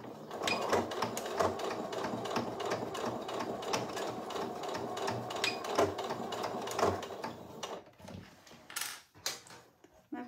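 A sewing machine stitches a mystery sewing project in a steady, rapid mechanical patter for several seconds, then stops and gives way to scattered handling clatter.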